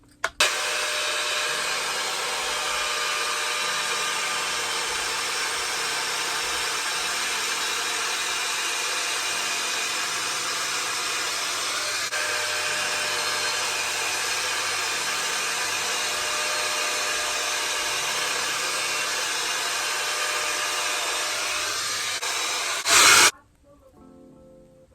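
A Dyson dupe hot air brush blowing steadily while styling hair, a continuous close whooshing drone with a faint voice underneath, then switching off abruptly near the end.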